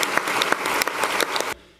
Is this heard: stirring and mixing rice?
no